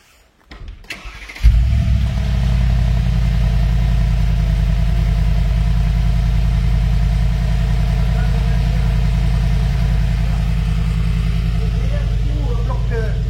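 A car engine cranks over and catches, then settles into a loud, steady deep idle with a closed exhaust, close by for the rest of the clip.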